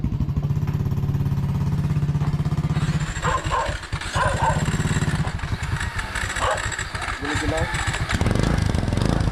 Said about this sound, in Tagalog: painit lang po kami ng motor